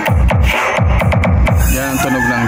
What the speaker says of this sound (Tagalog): Yan ang tunog ng jazz.